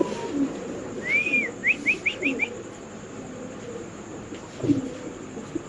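Spanish pigeons at a pigeon farm give soft low coos along with a quick run of rising chirps and a few brief calls, moderately close against quiet room noise.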